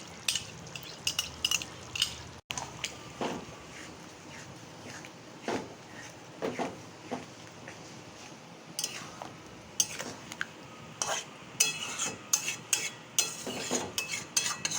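Whisked sour yogurt with a little sugar goes into a pan over a low gas flame, bringing scattered clinks and scrapes of a utensil against the pan with soft pouring and stirring noises, fairly close, with no talking.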